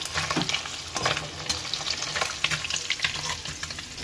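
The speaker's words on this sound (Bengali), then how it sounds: "তারপরে আবার মাছগুলো ডুবো তেলে ভেজে নিলাম" Small fish deep-frying in a pan of hot oil, with a steady dense crackling sizzle and occasional stirring scrapes, close and fairly loud, no talk.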